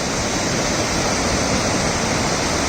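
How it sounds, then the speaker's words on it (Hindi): Rushing water roars steadily and loudly at the meeting of the Kali and Gori Ganga rivers, a dense unbroken wash of noise running alone with no voices. "काली नदी और गौरी गंगा का ये संगम का अद्भुत दृश्य"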